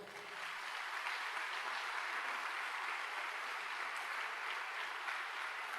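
A church congregation applauding the Lord during a Portuguese-language evening sermon, clapping swelling in after a brief moment and holding as a steady, fairly soft wash.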